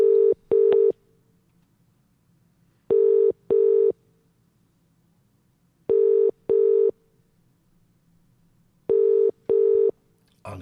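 Telephone calling a landline: four loud double-ring ringback bursts repeat at even intervals of about three seconds, with faint line hum in the gaps.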